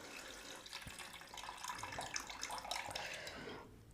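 Rice being rinsed under a running kitchen tap to wash out the starch, a steady broadband rush of water splashing into grains and a bowl, continuous and close, with no talking.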